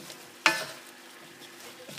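A utensil scrapes once sharply through food in a pan, followed by a faint sizzle and soft stirring sounds.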